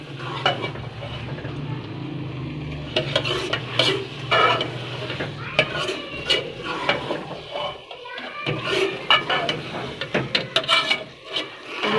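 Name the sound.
stirring and frying cauliflower and meat over high heat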